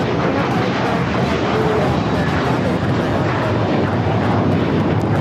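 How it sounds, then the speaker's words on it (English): An American Airlines Airbus A321 takes off from LAX bound for Chicago, a loud, steady broadband jet roar filling the whole stretch without letup, close and powerful. "2888 taking off to Chicago on the A321."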